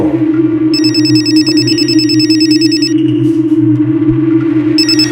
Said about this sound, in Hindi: ये दोपहर से चौथी बार फोन कर रही है स्वाति यार।